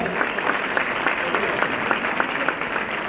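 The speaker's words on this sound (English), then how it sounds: "Please join me in welcoming them with another round of applause." Sustained applause from an audience at a BNI Mumbai members' day event, dense steady clapping with distinct sharper claps, fairly close and loud throughout, no voices over it.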